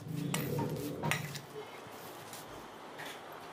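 Sweet-sour spicy grape and pineapple curry being stirred in a pot with a spoon, close scraping and clinks of metal against the pot in the first second or so, then a softer ongoing stir.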